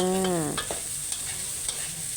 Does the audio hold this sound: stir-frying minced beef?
yes